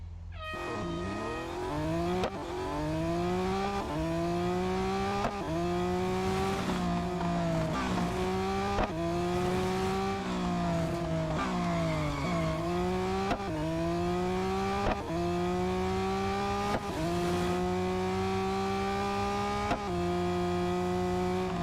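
A race car in an autocross event in the Real Racing 3 video game, engine revving repeatedly up and down through quick shifts, loud and steady throughout with no talk.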